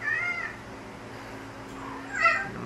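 A cat gives two drawn-out meows, one at the start and a second louder one near the end, close by, with a quiet pause between them and no talking.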